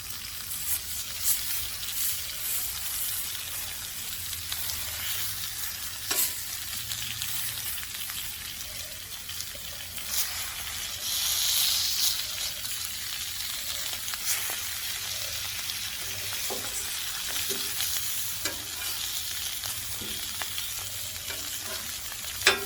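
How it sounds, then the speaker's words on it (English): Beef short ribs sear on a flat top griddle with a steady, dense sizzle and crackle that runs unbroken throughout, close by and fairly quiet, with small pops and scrapes now and then and no talk. "We're gonna get these a good sear on all sides"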